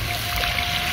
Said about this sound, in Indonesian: Lalu kita tambah air ya sobat.